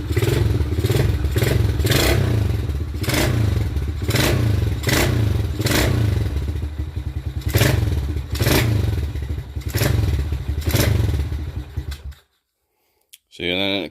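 A Kawasaki KLX110 dirt bike engine revs loudly and repeatedly under throttle, surging in rhythmic bursts for about twelve seconds before cutting out, with brief clattering and a short engine burst at the end.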